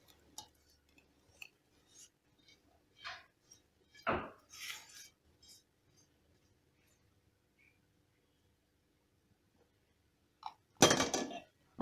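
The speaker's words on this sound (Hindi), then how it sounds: "तो अब ये तड़का हम इसमें डाल देंगे।" Sporadic clinks and metallic clatter of kitchen utensils and a pot as tempering is added to sambar, with a brief sizzle-like burst near the end, quiet pauses in between.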